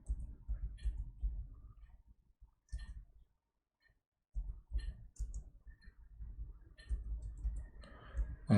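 Someone types on a computer keyboard in short bursts of soft, close keystroke clicks, separated by brief pauses.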